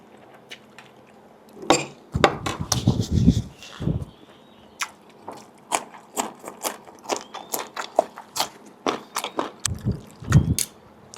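Close, wet chewing and biting of pork belly curry cooked with dried mango, in irregular crunchy bursts with short pauses between mouthfuls and no talk.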